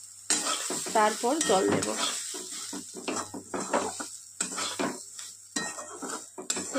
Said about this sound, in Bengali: সুজিটা দিয়ে গ্যাস আস্তে করে দিয়ে 2 মিনিট ভেজে নেব